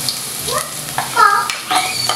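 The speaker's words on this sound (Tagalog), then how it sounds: "Gisa tayo ng" Garlic sautéing in a pan for Bicol Express, a soft sizzle with stirring scrapes that swell in short bursts, close and moderately loud.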